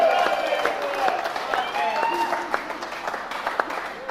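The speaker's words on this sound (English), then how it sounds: "let's give a big round of applause for the first contestant today" Studio audience of a game show applauds a contestant being welcomed, steady clapping with cheers while voices carry over it.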